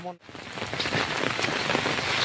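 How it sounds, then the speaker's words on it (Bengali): Heavy rain pouring steadily over a flooded village, a dense, loud, continuous hiss of drops hitting surfaces with no letup after a brief dip at the start. "সকাল থেকে শুরু হয়েছে বৃষ্টি, একদম মানে চলতেই আছে বৃষ্টি এখন পর্যন্ত"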